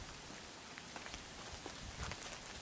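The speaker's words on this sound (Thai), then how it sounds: "เราไปดูกันตอนนี้ฝนตก" Steady rain falls outdoors in Oxford, England, making a continuous soft hiss with faint scattered drop taps. It sounds fairly quiet and even throughout, with no voices.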